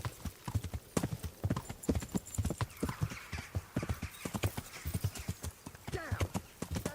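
Horse hooves clip-clop in a steady, repeated rhythm in the medieval game Kingdom Come: Deliverance, close and fairly loud, with a brief whinny and faint voices mixed in.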